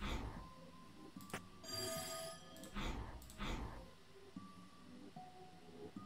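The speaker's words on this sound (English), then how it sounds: "What was that sound like a ringing bell? I think it came from this odd device." An odd machine in a video game gives off a bright, ringing bell-like tone in bursts over a low background hum, with repeated electronic chimes rising and fading across the span.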